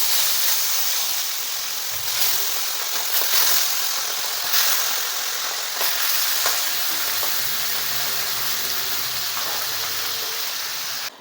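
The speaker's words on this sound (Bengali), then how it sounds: "এইবারে আমি এর মধ্যে মাছগুলোকে ভেজে নেব।" Fish frying in hot mustard oil in a pan, a steady dense sizzle and hiss with occasional sharper spits and pops, close and continuous throughout with no voices.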